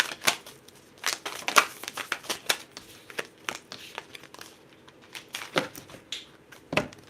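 A brand-new Wisdom of the Divine Feminine oracle card deck being shuffled by hand, its stiff cards giving close, uneven bursts of riffling and crinkly slaps with short pauses between, no voices.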